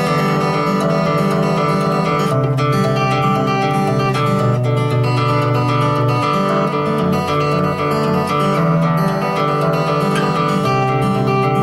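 A guitar played with fast fingerpicking in an alternating thumb-and-fingers pattern, the notes rolling steadily and evenly, close and fairly loud throughout with no talking.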